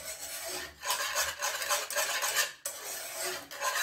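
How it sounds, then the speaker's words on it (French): Pistachio purée for tartlets is stirred in a bowl, a close, continuous scraping and rubbing of utensil against the bowl with short rhythmic pauses. "Donc on va bien mélanger"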